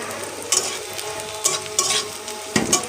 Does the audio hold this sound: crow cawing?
no